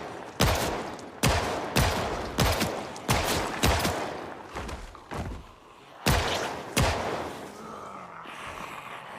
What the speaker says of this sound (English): we had a gunshot meta event